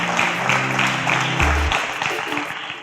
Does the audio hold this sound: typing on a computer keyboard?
no